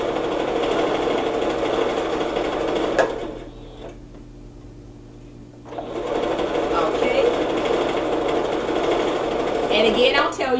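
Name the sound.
sewing machine stitching fabric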